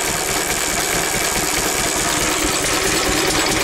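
An older pre-electronic engine with points ignition idles steadily, a loud continuous rumble with no pauses and no voices.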